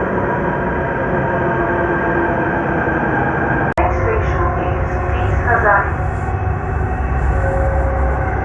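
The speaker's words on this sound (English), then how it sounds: "Finally, I'm at Kashmiri Gate Metro." Delhi Metro train at Kashmiri Gate station, a loud, steady rumble and whine of rail cars running through a busy station, with a sharp click partway through and people talking over it.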